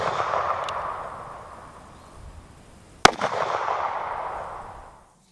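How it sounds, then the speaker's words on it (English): A single sharp handgun shot cracks outdoors toward a one-inch polyurea slab with a semi-jacketed round, loud and abrupt, followed by a brief echoing tail over steady background noise. "I actually missed my first shot."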